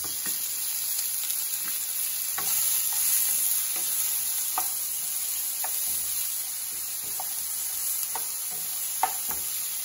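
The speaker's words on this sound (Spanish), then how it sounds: "Vas a trocear unos tomates y cebolla, todo es al gusto. Y esto lo vas a freír." Chopped tomatoes and onion fry in hot oil with a continuous close sizzle, punctuated by occasional sharp clicks of a utensil stirring against the pan.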